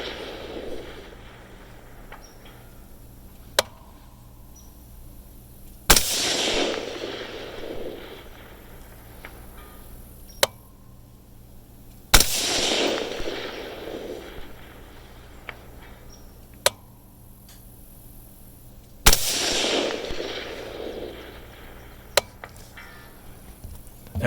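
Four sharp .223 rifle shots fired at a target 830 yards away, spaced several seconds apart, each a loud crack with a rolling echo fading behind it. Outdoors at a range, with no talk.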